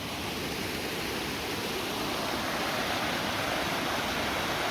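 A stream rushes steadily beside the Rivelin Valley waterfall trail near a small bridge, its broadband water roar loud and unbroken throughout, with no voices.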